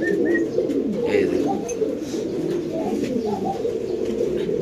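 Spanish fancy pigeons coo in a low, continuous rolling murmur in a pigeon loft, close and steady, with someone briefly speaking over the birds.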